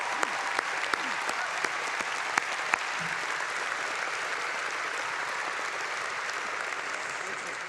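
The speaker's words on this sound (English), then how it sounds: "Let's give Jackson Kaguri one more round of applause." At a Cal Poly fall commencement ceremony, a large audience claps steadily and densely for several seconds without pause, a broad, even wash of applause.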